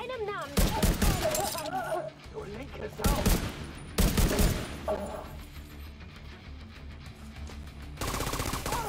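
Rapid turret gunfire from The Division 2, several dense loud bursts of automatic fire with short pauses between them, while game voices and background effects continue underneath.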